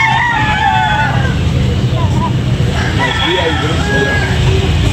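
Roosters crow at a busy market selling fighting cocks, several long calls overlapping at middle distance amid crowd babble, people talking and passing vehicle noise.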